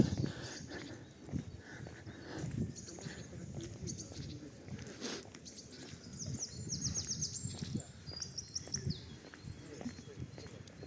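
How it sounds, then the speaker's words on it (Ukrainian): Bright bird chirps and trills rise in a busy spring chorus in the Resort Park of Truskavets, Ukraine, in late February, over soft rustling and footsteps, with some distant background noise. "Найбільше що чути це, це весняні співи птахів."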